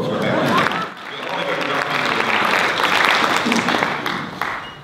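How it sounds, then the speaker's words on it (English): Audience applause at an economics conference plenary panel in Portland, a dense, sustained wash of clapping from a large crowd that stays loud for about five seconds, dipping briefly near the one-second mark. "So give yourself a round of applause for that."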